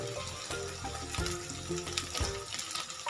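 Chopped onion and diced potato fry in hot oil in a pan, a steady close crackling sizzle with bursts of spatter and clinks from stirring throughout, and no talk.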